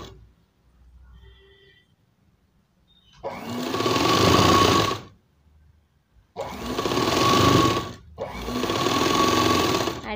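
A domestic sewing machine stitching a chudidar runs in three loud bursts of rapid mechanical clatter, separated by short quiet pauses, with faint handling noise in the gaps.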